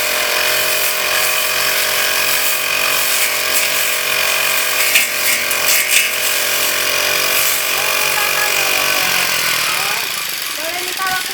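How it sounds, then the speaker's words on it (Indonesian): A motorized grass-cutting machine runs steadily and loudly up close, its droning engine holding a buzzing pitch for about eleven seconds before the tone shifts near the end. "Potong rumput."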